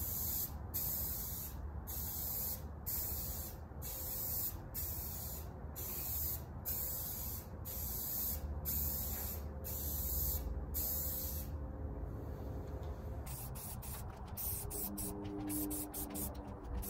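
A Firebird model kit body gets green coats from a spray can, with rapid short hissing bursts pulsing steadily. Scattered softer clicks and rattles follow near the end.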